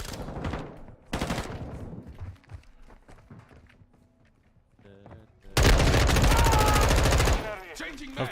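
Gunfire in Call of Duty MW2 beta, with scattered shots and a loud, sustained burst of automatic fire late on, plus footsteps and a voice talking between the bursts.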